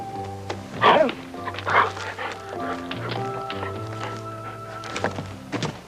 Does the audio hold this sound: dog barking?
yes